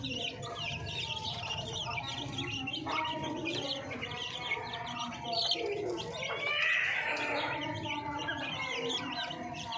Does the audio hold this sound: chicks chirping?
yes